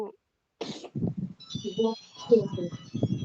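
A mobile phone ringtone signals an incoming call, faint sustained melodic tones playing behind people talking and a cough.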